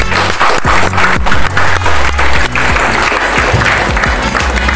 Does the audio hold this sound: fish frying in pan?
no